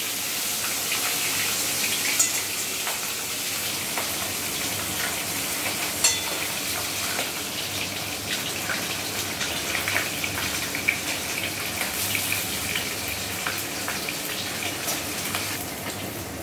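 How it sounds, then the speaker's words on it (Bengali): Fish head pieces coated with salt and turmeric fry in hot oil, producing a dense, even hiss of sizzling that stays steady and close throughout, with occasional small crackles and watery bubbling. "মাছের মাথাটা একটু একটু করে দিয়ে খুব ভালোভাবে প্রথমে ভেজে নিতে হবে"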